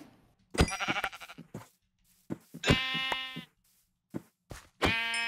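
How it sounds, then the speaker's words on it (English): Sheep in the video game Minecraft bleat in several short, close, loud calls separated by brief silences. "I'm gonna kill some sheep that I'm next to real quick before I go"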